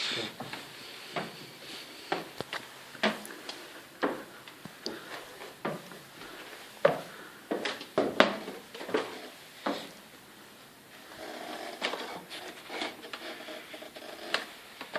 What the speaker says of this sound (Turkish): şu basamakların, o tahtaların gıcırtısı bile insana böyle en güzel bir müziğin sesini verdiği mutluluğu böyle veriyor